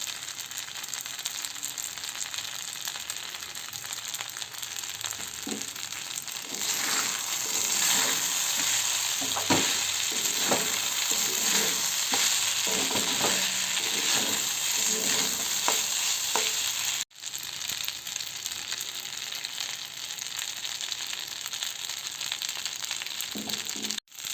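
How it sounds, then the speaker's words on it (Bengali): Pasta with tomato sauce stirred and fried in a pan, a continuous close sizzle with a dense run of scraping stirring strokes through the middle, then steady frying with a brief cut near the end. "দিয়ে বেশ ভালো করে নাড়াছাড়া করে নেব এটাকে টমেটো সস এটাও একটু দিয়ে দিচ্ছি"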